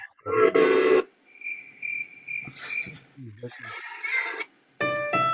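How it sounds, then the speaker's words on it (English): Crickets chirp in steady, repeated pulses during a casual live online show. The chirps run through the pauses between bursts of other sound, with louder noise breaking in at the start and the end. "I like the crickets."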